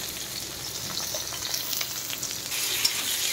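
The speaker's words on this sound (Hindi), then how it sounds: "पियाज को टिके तेल रे गोल्डन ब्राउन कलर हवा पर्यंत आम पियाज को भल भाव तेल रे फ्राए करबा" Onions fry in hot oil with a dense, continuous crackling sizzle, close and even throughout, growing slightly louder toward the end.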